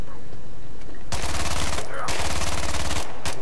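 Rifle fire in the zombie video game Contagion: loud, rapid automatic bursts crack out in several runs after a quiet opening, each string of shots close and harsh.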